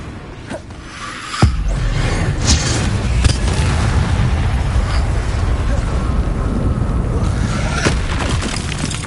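Incendio fire spell cast in Hogwarts Legacy: a sharp burst followed by a loud, roaring whoosh of flame that rumbles on for several seconds, with a voice briefly over it.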